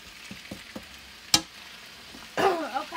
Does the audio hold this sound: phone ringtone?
no